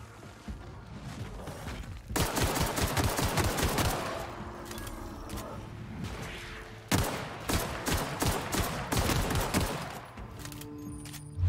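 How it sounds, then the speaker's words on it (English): Rapid, heavy gunfire from a shotgun in the video game The Outer Worlds, bursts of loud blasts and clattering shots in two dense volleys, close and harsh throughout. "This shotgun's pathetic."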